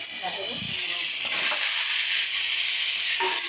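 A spice masala for a radish and pumpkin curry sautés in a pan, making a loud, continuous sizzle and hiss with a few scraping stirs near the start, and no talking over it.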